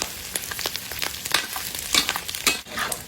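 Pork frying in hot oil, a close crackling sizzle broken by sharp spatters and pops at an uneven rhythm.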